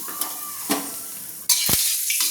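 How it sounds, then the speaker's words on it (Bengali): Potatoes hit hot oil in a kadai with a few light clinks, then a sudden loud burst of hissing sizzle takes over and holds steady to the end. "তেলটা আমার গরম হয়ে গেছে, তো আমি দিয়ে দিচ্ছি আলুটা একটু ভেজে নিচ্ছি"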